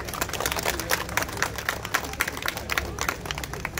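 An audience at an Independence Day celebration event breaks into sustained clapping, a dense, even patter of many hands heard near and fairly loud.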